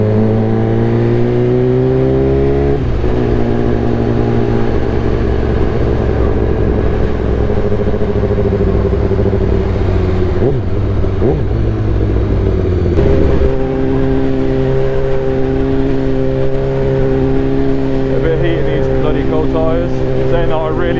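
BMW S1000RR motorcycle with an Akrapovic full exhaust, engine running steadily close by and loud, with a few blips of revving and shifting pitch, a slightly rough idle underneath.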